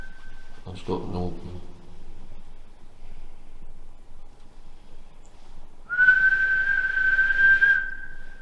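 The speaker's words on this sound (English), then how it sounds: "I'm going to whistle. Can you copy my whistle?" A person whistles one steady, sustained note of about two seconds during a paranormal investigation at Fort Widley in Portsmouth. It comes after a short burst of speech and a brief earlier whistle, in a quiet room.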